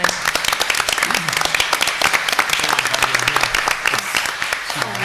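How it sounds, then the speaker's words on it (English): An audience at an evening panel discussion event breaks into sustained applause, dense overlapping claps that fill the room at a steady level throughout. "join me in a big round of applause for really Stand Strong, the board members"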